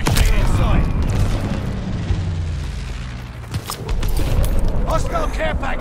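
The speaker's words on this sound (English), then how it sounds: "Friendly sending a glide bomb." A glide bomb detonates in the Call of Duty: Vanguard video game. A heavy boom rolls out and a long low rumble lingers under ongoing battle noise and an announcer voice.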